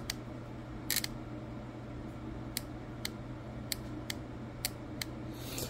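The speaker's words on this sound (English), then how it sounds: "You can hear it clicking." A series of sharp, faint clicks repeats at irregular intervals over a steady low hum, a 2008 Cadillac DTS rear suspension air compressor relay snapping on and off.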